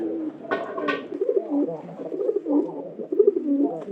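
Pigeons coo in a loft, with low rolling calls repeating steadily and close by, and a couple of brief sharper noises early on.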